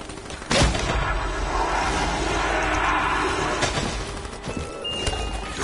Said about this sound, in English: My new gun!